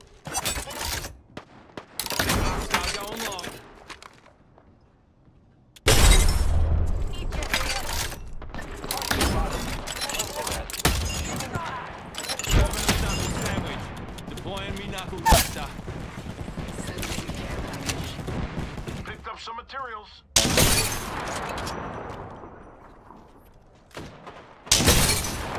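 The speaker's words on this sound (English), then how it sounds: "Hey, I'm getting shot!" Apex Legends Season 10 match gunfire: repeated bursts of close automatic shots and loud impacts crash through the scene in dense volleys, separated by brief lulls, with a player talking between and over the firing.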